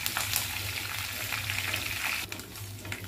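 Curry leaves and spices crackle in hot oil in a pan for an Andhra-style mushroom masala, giving a steady, hissing sizzle with scattered pops throughout.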